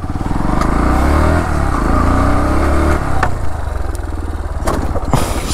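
A motorcycle engine revs hard and steadily, loud and close, while the rider performs a stoppie on an empty road, pitch rising and falling with the throttle before dropping to a rougher idle near the end.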